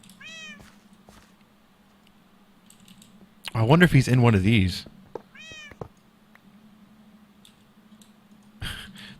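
A cat meows close by in a quiet room, a few separate meows alongside a short loud burst, with computer keyboard typing and someone talking between them.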